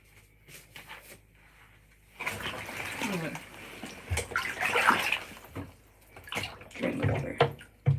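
Water sloshes and splashes in a bathtub as wetsuits are washed by hand, the sound steady and close with bursts of movement, while someone talks intermittently.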